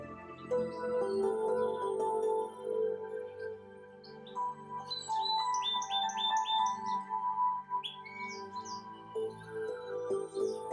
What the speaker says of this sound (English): With no sound but birds and the falls gently cascading into emerald pools